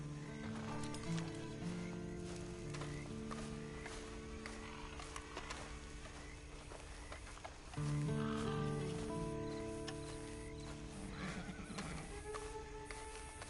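A horse neighs and whinnies repeatedly in Red Dead Redemption Online, with hoof clip-clops and a busy outdoor game soundscape, close and steady throughout.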